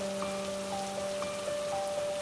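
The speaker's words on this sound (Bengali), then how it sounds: "এ কি, বৃষ্টি শুরু হলো যে?" Steady rain patters on a surface with scattered drip accents, a continuous wash of sound over a constant tonal hum, no voices.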